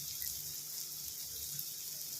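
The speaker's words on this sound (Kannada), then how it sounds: "ಚೊಂಬು 2 ಚೊಂಬು ಹಾಕ್ತೀನಿ" A second chombu of hot water goes into a pan for masala upma, an even, quiet stream of pouring and splashing that runs unbroken, with no speech over it.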